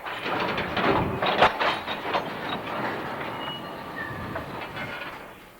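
A Southern Pacific train backs slowly out of a siding on the coast line, with a steady rolling rumble, faint wheel clatter and a few squeals and clanks, loudest early and easing off toward the end.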